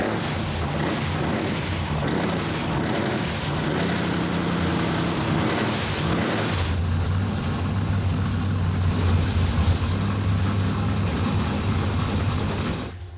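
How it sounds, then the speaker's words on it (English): A 347 V8 in a custom Camaro SS fastback fires up for the first time, a loud, throbbing engine rumble that settles into a deep steady idle after a few seconds of uneven running. "All right, let's go ahead and fire it."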